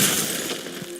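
Glacius freezing spell producing an icy shatter, a bright glassy crash right at the start that rings and fades over a second.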